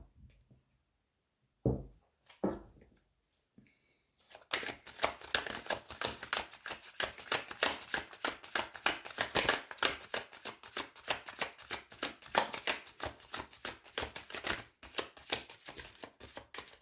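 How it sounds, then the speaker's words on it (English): A couple of soft taps, then a long, fast flurry of card riffles and bridging, close and continuous with a dense clicking rhythm. "We shuffle on camera, guys."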